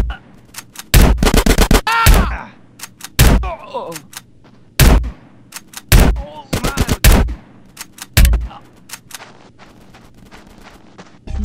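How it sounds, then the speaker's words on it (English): Gunfire in GTA: San Andreas during a gang shootout with police, heard as loud close bursts of rapid shots broken by single cracks, scattered across the scene, with brief voices calling out between them. "Get some suppressing fire in there!"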